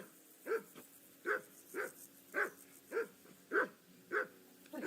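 A dog barks repeatedly in the medieval video game Kingdom Come: Deliverance II, about nine evenly spaced, moderately loud barks with no talk over them.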